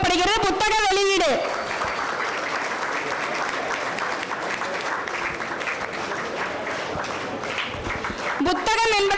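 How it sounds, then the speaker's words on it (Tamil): Audience applauds at a book release, steady dense clapping that fills the room for several seconds, framed by a voice speaking at the start and again at the end. "அனைவரும் கரகோஷத்தோடு ஒலி எழுப்புமாறு கேட்டுக் கொள்ளப்படுகிறது"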